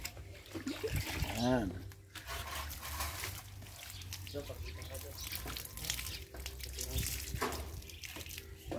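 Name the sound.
water poured onto a marcotted calamansi plant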